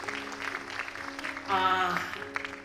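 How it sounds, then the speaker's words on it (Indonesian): An audience claps in applause beneath a voice and tonal sound. The clapping is moderately quiet and swells briefly toward the middle. "Beri tepuk tangan yang luar biasa buat Tuhan Yesus."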